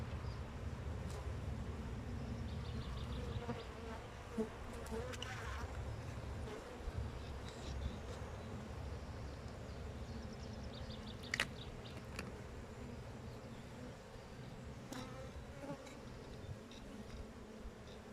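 Honeybees swarm and buzz around a hive being transferred, a dense, continuous droning hum with a few louder passes of bees flying close, plus scattered faint knocks and clicks.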